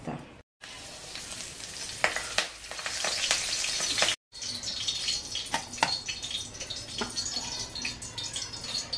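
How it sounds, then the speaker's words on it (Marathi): Curry leaves sizzle and crackle in hot oil while poha chivda is being made, a busy broadband frying hiss with sharp pops and spatters, loudest after the leaves drop in, steady throughout with two very brief gaps. "तर हा कढीपत्ता मी तेलामध्ये टाकून घेणार आहे"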